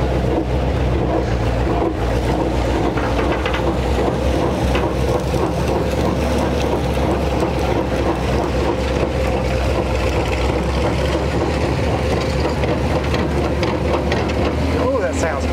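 An old 1957 Chevy Viking truck engine runs rough with a loud, steady, rumbling drone and uneven sputter, heard up close with wind buffeting throughout.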